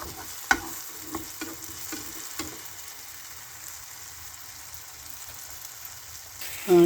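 Banana, egg and honey pancakes frying in a pan give off a faint, steady sizzle, with a few soft clicks and scrapes near the start. No one speaks, and a louder bump comes right at the end.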